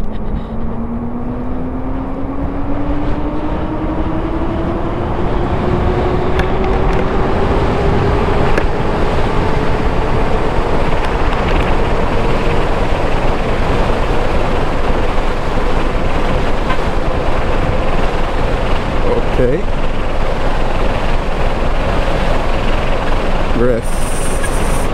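A Rumble Motors Air SS accelerates in third gear with a steady, loud drone that rises gradually in pitch over the run, mixed with strong wind rush.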